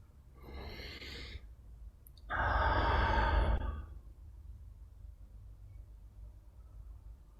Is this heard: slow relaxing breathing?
yes